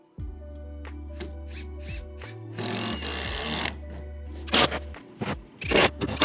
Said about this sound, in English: The impact driver is taking all of, or making all of the impact.